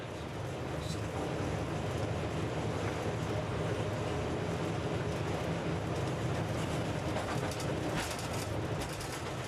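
A locomotive hauling a coal train on the down main line nears Barnetby station in North Lincolnshire, producing a continuous heavy rumble and rolling noise with faint higher clatter and chirps over it.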